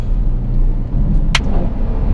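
A Ferrari F12 exhaust rumbles with a steady, loud, close low drone throughout, marked by one brief crackle or pop midway.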